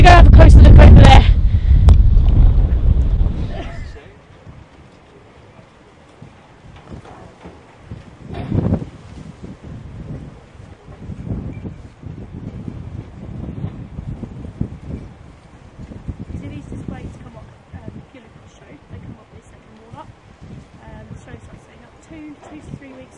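Strong gusty wind buffeting the microphone at an outdoor agricultural show, a loud roaring blast at first and then lower rumbling gusts that rise and fall.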